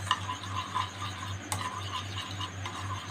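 Sour yogurt whisked in a bowl, giving soft, quick scraping and tapping strokes with one sharper clink midway over a low steady hum.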